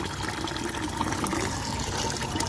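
Running water rinsing small shrimp, a steady close splashing and trickling wash without pause.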